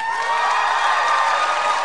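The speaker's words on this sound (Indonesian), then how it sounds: "Tepukan untuk pengkritik yang pertama" A TV concert show audience claps and cheers to welcome the first critic, a dense, continuous burst of applause with whoops and shouts, loud and close throughout.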